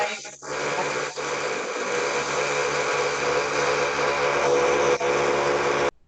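A drill runs continuously nearby, a loud, steady mechanical whine and hum that stays level for several seconds, dips briefly a few times and then stops abruptly, with no talking.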